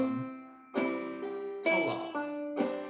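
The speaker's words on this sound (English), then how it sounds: "Turning that into a pull-off, you'd just be flicking back with your ring finger." Plucked guitar notes ring out in sequence, each sharp attack followed by sustained harmonics, with a quick slurred pull-off note change between strikes, flicked off with the ring finger; no voices.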